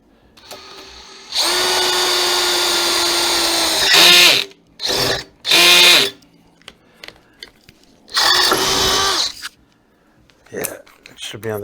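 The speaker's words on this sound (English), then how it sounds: "Yeah, it should be on the drill mode," A cordless power drill set to drill mode runs in several bursts of a few seconds each, a loud whining motor spinning up and stopping, in a garage where diesel heaters are being installed.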